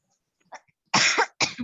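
Two sharp, close coughs in quick succession, preceded by a faint throat sound.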